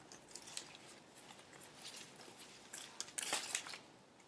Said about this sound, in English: So then I just go in the strip and cut it.